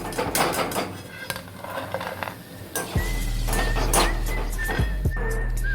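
A metal spatula clinks and scrapes against a pan while lifting fried chana dal fritters in a Bengali home kitchen. Several quick clatters are followed by a steady low hum and a faint thin whistle.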